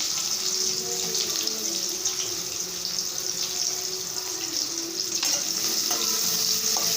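Steady sizzling of onions frying in hot oil with cumin, a continuous crackling hiss close by, with no voices.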